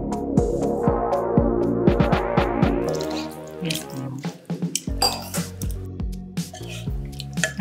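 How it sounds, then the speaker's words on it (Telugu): Water poured into a pan of Vijayawada-style botti curry after it has simmered, giving a wet splashing and bubbling at close range, first dense and sloshing, then breaking into scattered drips and sizzles with light kitchen clatter. "మగ్గిన తర్వాత ఇలాగా వాటర్ పోసుకోవాలి"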